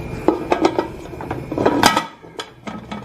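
A pressure cooker lid, its rubber gasket removed, is set down and closed, giving a string of light metallic clinks and clatters at close range, with no talk.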